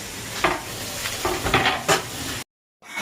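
Masala frying in a little oil for Konkani-style crab curry, a steady close sizzle with intermittent scraping stirs, ending abruptly in a brief silence.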